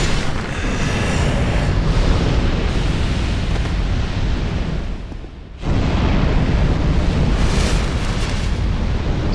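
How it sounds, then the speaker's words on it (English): Barrel carriers blow up in a video game, a dense, continuous roar of blasts and rumbling booms that fills the whole stretch, with one brief dip in the middle before the explosions surge back. "it's going to cause the barrel carriers to explode"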